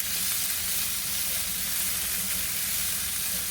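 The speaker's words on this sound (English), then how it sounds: "Let's go ahead and get those sauteing up." Vegetables sautéing over high heat in a pan for beef stroganoff give a continuous, even hiss and sizzle, close and steady from start to finish, with no talking over it.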